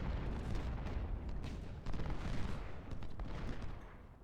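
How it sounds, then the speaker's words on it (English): Artillery and musket volleys from a Civil War battle game at Cedar Mountain: a dense, rumbling barrage of overlapping booms and crackling shots that keeps going throughout, with a few sharper bursts standing out. "Getting the artillery in closer and closer"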